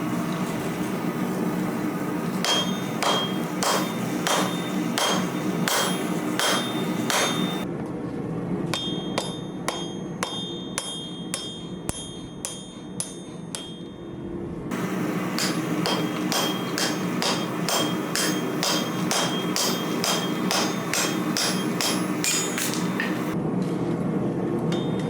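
Steel bolt hammered on two sides to taper it for a blacksmith nail, a long run of loud, close metallic hammer blows in quick rhythmic bursts with a short pause in between, with no talking.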